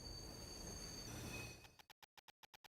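A train in Little Witch in the Woods grinds down with a long rumbling, squealing roll, then settles into a row of evenly spaced clacks as it comes to a stop.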